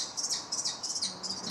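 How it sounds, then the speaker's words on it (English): High, repeated chirping calls from two kestrel chicks in a nest, several quick squeaky bursts in close succession, fairly faint and close by. "we've got the kestrel nest there with 2 chicks in"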